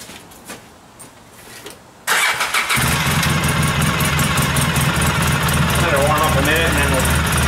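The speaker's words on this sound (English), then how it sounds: "do a grimy cold start here" An ATV engine cold-starts after a few seconds of quiet, catching abruptly and settling into a loud, steady, slightly rough idle close by.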